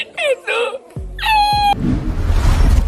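A cat meows as monkeys grab its tail and sit on it, with a couple of clear meows at the start, then a harsher, strained cry and low thumping scuffle noise toward the end.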